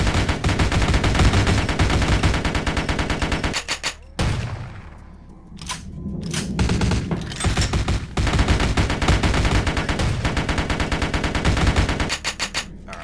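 Rapid bursts of gunfire in Vampire: Bloodlines, loud and close, with dense automatic volleys running nearly nonstop, a brief lull in the middle, then heavy firing resuming to the end.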